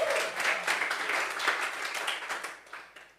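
A church congregation applauds and cheers during a sermon, a broad wash of clapping that swells early, holds, then thins and fades out over a few seconds.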